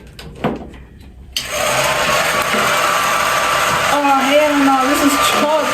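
A hair dryer switches on after a moment of quiet and blows steadily as a loud, continuous whooshing roar that holds to the end, with some faint background sound near the start.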